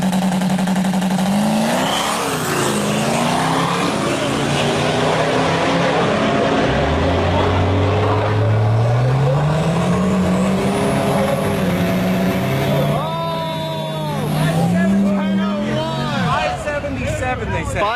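A 1200HP four-wheel-drive diesel truck on its ninth drag racing pass roars and revs hard, rising through gears over a loud background. People talk throughout.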